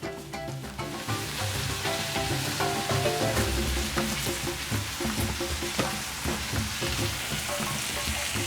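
Julienned bell pepper with salt and pepper sizzles and crackles steadily in a pan for shakshuka, a close, constant frying hiss dotted with pops and spatters.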